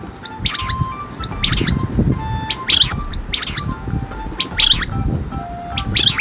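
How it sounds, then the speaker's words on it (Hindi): A quail gives repeated sharp chirping and squawking calls in a rough, uneven rhythm, moderately close and clear against a faint rustling background, with no one speaking. "QUAIL, quail. क्वेल को हिंदी में बटेर बोलते हैं।"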